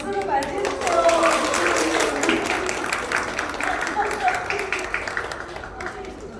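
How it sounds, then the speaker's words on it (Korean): An audience at a Korean reading event claps to welcome a guest, dense steady applause that swells early and gradually thins, with a voice speaking over it. "자 박수로 맞이해주세요."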